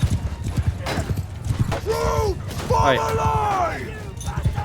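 Horse hooves clopping with loud whinnies rising over a busy battle mix in Mount & Blade II: Bannerlord, cavalry among infantry, steady and close.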